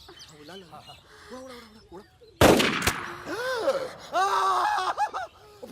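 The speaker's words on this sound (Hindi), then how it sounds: "गोली चल गई।" A single sharp gunshot cracks suddenly amid agitated voices and shouting, followed by more excited yelling.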